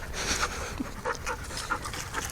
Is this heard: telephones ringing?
no